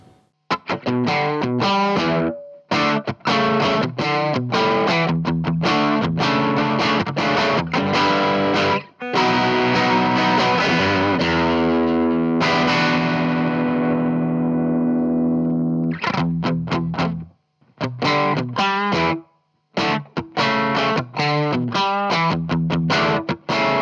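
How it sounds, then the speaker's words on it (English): Overdriven electric guitar, a Strat or Tele in a music shop demo, plays loud rocky gain tones with distortion and effects: choppy chugging riffs, a long sustained ringing chord fading out mid-way, then more stabbing rhythmic chords. "Let's show some gain sounds. we should do some more rocky tones maybe."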